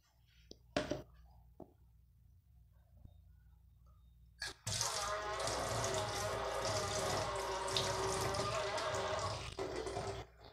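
About 100 ml of water pours steadily for roughly six seconds after a few faint clicks and knocks, a close, continuous splashing stream.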